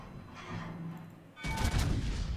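A Tier 10 Montana battleship fires a main-gun salvo at an Iowa in World of Warships: a low rumble, then a sudden loud booming blast of overlapping cannon fire that roars on to the end.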